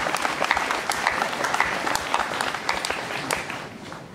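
An audience applauds at a school ceremony at Teso College Aloet, dense steady clapping from many hands filling the space.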